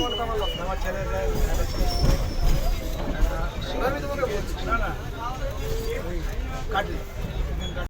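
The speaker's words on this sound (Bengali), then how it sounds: "এবার আমরা ট্রেনে উঠে পড়েছি" Rumbling, rattling ride inside a moving train carriage, with steady clatter and a murmur of passengers talking throughout.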